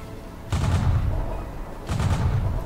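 Tank cannon fire in the Tanks video game during a competitive Asia Masters match, two heavy booming shots a little over a second apart, each with a rumbling tail.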